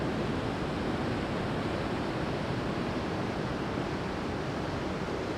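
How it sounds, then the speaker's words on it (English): Ocean surf breaking on an Australian shore on a bright morning, a steady, loud broadband wash with no distinct individual wave crashes, the roar sustained throughout and no voices. "The ocean is beautiful, the waves are amazing"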